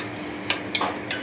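Meat being stirred in a pot for Kolkata biryani gives three sharp metallic scrapes and clanks of a spoon against the pot, close and distinct over a quiet background.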